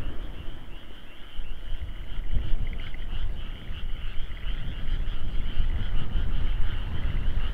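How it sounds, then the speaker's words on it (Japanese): Frogs croak in a steady, dense chorus, with rough raspy calls overlapping continuously against a constant high insect-like buzz. "カエルがこうギャーギャー鳴いてる声はそんな不快じゃないよね。"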